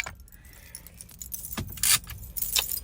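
Keys jangling up close in bright metallic bursts, two or three clusters of clinking near the end over a quiet background.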